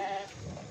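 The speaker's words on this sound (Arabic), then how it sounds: "الأمانة ديالك ها 10 الخرفان ديالك" Sheep bleating at a livestock sale in Marrakesh, a single short, faint wavering bleat up close, fading into low background murmur.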